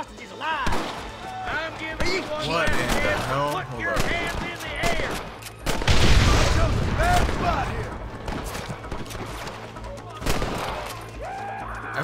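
Gunfire in Red Dead Redemption crackles in a chaotic exchange of many shots, with a heavier burst midway, mixed with voices and shouting throughout.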